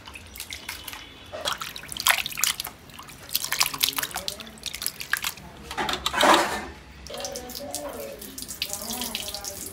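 Tap water running and splashing while cut pieces of meat are washed in a home kitchen sink, uneven splashes and drips up close, with people talking over it in places.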